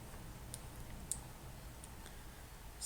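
A few sharp, faint computer mouse clicks on a web page link, spaced irregularly over quiet room hum.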